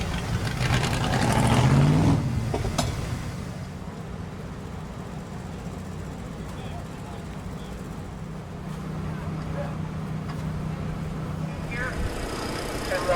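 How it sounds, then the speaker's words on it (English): A race car engine warming up at a speedway during an All Star Circuit of Champions event in Chillicothe, Ohio, in 1999, a steady, somewhat distant rumbling drone that swells briefly at the start and then holds on. "Warm your engine up, do a little tune before your hot lap seconds."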